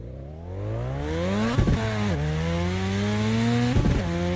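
A car engine revs in the racing game Assetto Corsa, loud and close, climbing in pitch through gears with two sharp gear-shift dips before rising again, no talking.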